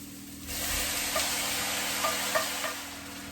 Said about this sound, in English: You want to keep stirring this and frying it off until it gets nice and soft.